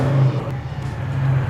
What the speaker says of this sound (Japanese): 2本出しのマフラーから出てるすごい低音、これがなかなか迫力あっていい音してます。